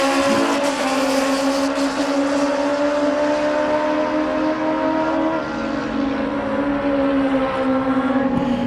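A drag racing car makes a solo competition run, a sustained loud engine drone with steady harmonic tones that hold and shift slightly as it passes, heard alone without talk.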